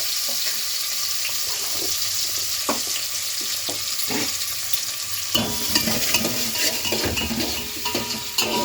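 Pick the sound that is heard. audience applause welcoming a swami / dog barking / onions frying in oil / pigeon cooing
onions frying in oil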